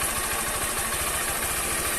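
A 160 cc motorcycle engine with about 6,000 km idles steadily, its low, even pulsing throb close and continuous with no voices.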